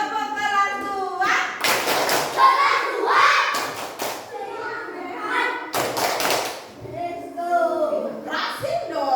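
Second-grade pupils in a classroom clap together in a patterned class chant, with loud bursts of group clapping interleaved with children's chanting and a teacher's voice.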